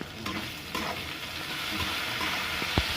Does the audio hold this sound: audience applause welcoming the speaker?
no